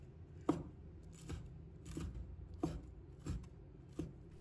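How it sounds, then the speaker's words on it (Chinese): A knife chops washed dried shrimp into small bits on a board, landing as about six separate, quiet, evenly spaced knocks with light scraping between them. "再准备1把洗干净的干虾"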